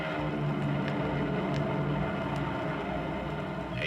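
A steady, dense droning roar like an airplane engine, loud and unchanging throughout, with no voices.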